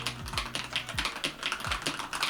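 Rapid typing on a mechanical keyboard, close and crisp, with clacky keystrokes in quick, slightly uneven bursts.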